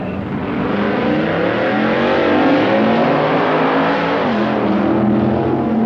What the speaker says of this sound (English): The Candy Stripe Ram Chargers Dodge, driven by Jim Thornton, takes on Paul Russo's Plymouth.